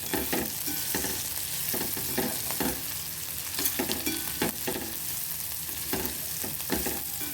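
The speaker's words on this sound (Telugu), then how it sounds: "ఈ పోపు వేసేస్తాం కదా మనం" Steady crackling sizzle of a spice tempering frying in hot oil, with repeated scraping stirs of a spoon against the pan, loud and close.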